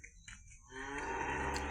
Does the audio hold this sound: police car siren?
no